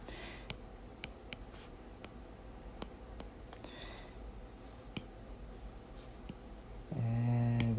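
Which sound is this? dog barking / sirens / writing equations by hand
writing equations by hand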